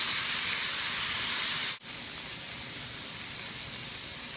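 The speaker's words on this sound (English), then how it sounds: "We're going to fry these onions till they are translucent." Onions frying in hot oil give a loud, steady, close hiss that cuts out for a split second midway, then resumes just as strongly.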